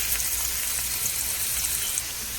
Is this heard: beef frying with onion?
yes